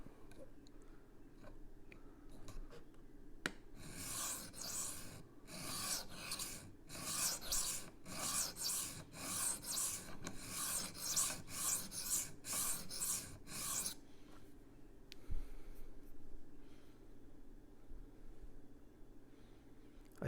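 Rough Ryder Half Hawk knife blade pushed across a sharpening stone with an angle guide, rhythmic rasping strokes repeated steadily for about ten seconds, then quiet.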